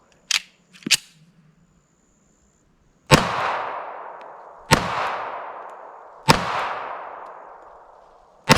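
An M1911 A1 pistol fires .45 ACP rounds: three loud, sharp reports spaced a couple of seconds apart, each with a long decaying echo, preceded by two fainter clicks or cracks and a fourth shot at the end.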